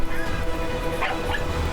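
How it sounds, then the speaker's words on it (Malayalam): A cartoon detective dog barks and yips in a few short, light calls over a busy backdrop of music and effects. "ഡിറ്റക്റ്റീവ് ഡോഗ് പുറത്ത് വരട്ടെ."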